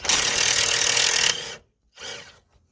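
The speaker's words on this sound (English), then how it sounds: "just gonna remove the third nut of the lower ball joint" A power tool whirs continuously for over a second while undoing the third nut of a Seat Altea's lower ball joint during a front coil spring and strut mount job, then cuts off, followed by a shorter second burst, loud and close.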